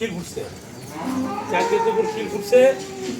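A heifer for sale at a cattle market moos in a long, low, drawn-out call that rises near the end, loud and close, with background murmur around it.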